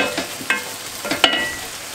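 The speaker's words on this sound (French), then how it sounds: "c'est juste les pommes de terre dans la cuillère à soupe de ghee" Potatoes frying in a tablespoon of ghee in a pan, with a few soft stirring scrapes and a light, intermittent sizzle, close and without talk.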